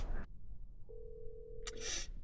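A single steady ringback tone sounds for about a second on an unanswered phone call to a house on Ulleungdo, faint over low background rumble, with a brief burst of noise after it.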